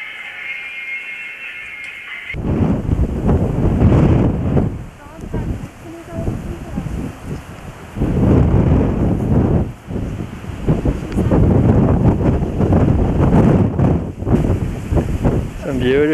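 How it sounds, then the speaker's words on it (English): Wind blowing across a hot hillside above a village in Ecuador, gusting hard against the microphone in loud rumbling bursts that rise and fall after a quieter opening. "Also a little windy, but it sure feels nice."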